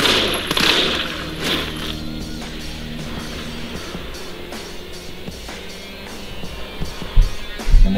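Bursts of rapid gunfire from the video game Resident Evil 3 played with a first-person mod, loud shots rattling in clusters over a murky game soundscape, with a heavier thud near the end.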